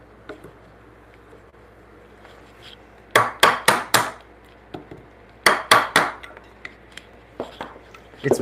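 A one-inch Sorby chisel is struck into wood for a timber-frame bunk bed, giving sharp mallet knocks in quick clusters of three or four, with quieter taps between the groups.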